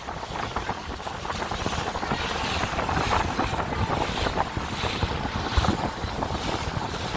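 A boat pushes through a mangrove channel in Genipa Bay, Martinique, heading into both wind and current, with a steady, loud wash of water and wind buffeting the microphone for the whole stretch.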